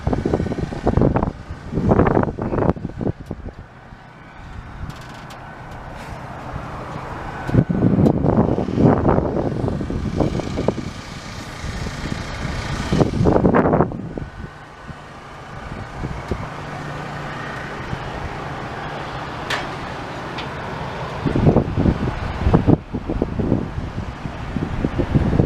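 Gusty wind buffets the microphone at a high lookout walkway with a metal grate near Birmingham, Alabama, rising in loud rumbling surges and easing between them, with no talking.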